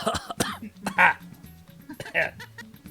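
A person coughs and clears their throat in a few harsh bursts after trying to do an evil laugh, with short pauses between them, close and fairly loud.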